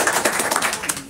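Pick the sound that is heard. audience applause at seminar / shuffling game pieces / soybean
audience applause at seminar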